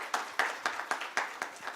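Audience at an audit workshop breaks into applause after a speaker is introduced, a thin, sparse patter of clapping with about seven distinct louder claps spread across a short burst, fairly quiet and without talk.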